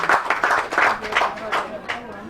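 An audience at a mushroom training session in Ilesa claps in a steady rhythmic beat, with sharp bursts repeating about three times a second throughout, close and fairly loud, with voices mixed in.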